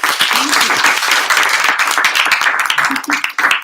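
An audience claps steadily in dense, sustained applause to welcome a speaker at an academic talk, loud and close, with a few voices mixed faintly into the clapping.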